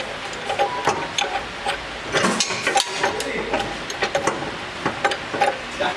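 Bolts on a Rockarmor Troopy wheel carrier being tightened with a ratcheting tool, a busy run of close metallic clicks and clanks in irregular bursts without pause.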